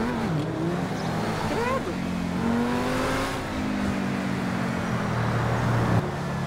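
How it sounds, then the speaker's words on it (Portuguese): A car driven through city streets in the video game GTA V, a continuous engine drone with shifting revs and gear changes, steady and close, with a person talking over it. "Tentando dirigir concentrado aqui pra não poder bater o carro."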